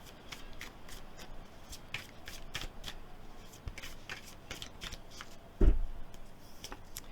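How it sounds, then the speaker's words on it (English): Tarot cards shuffled by hand nearby, with repeated light riffling flicks over quiet room tone and one louder thump from handling the deck. "we are going to draw some more tarot cards for you"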